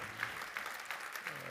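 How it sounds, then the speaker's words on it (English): Brief, quiet audience applause at an energy-transition conference, a soft continuous patter of clapping hands with no single claps standing out. "Big round of applause."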